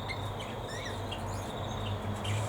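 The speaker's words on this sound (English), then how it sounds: "That other squawky sort of noise you can hear is a turquoisine arguing with a Java, I think." Small birds chirp and squawk intermittently at a distance over a steady low background hum, including a turquoisine parrot squawking at a Java sparrow, with no one talking.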